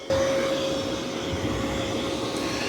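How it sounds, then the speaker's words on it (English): A Mova V50 robot vacuum runs steadily across a carpeted room, a constant whirring drone with a thin high tone, close and alone for under three seconds with no talk. "So it's going to travel to the room and start vacuuming."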